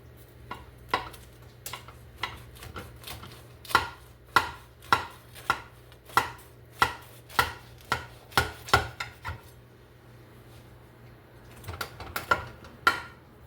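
A knife chops down through a giant crunch wrap in a rapid run of sharp, crisp cutting strikes on a board, close and distinct. The cuts pause briefly near the end, then a few more strokes follow.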